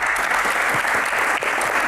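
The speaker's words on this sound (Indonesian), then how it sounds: "Tepuk tangan." Audience applause at a Q&A event, a dense, steady wash of many hands clapping together, loud and sustained throughout without a break.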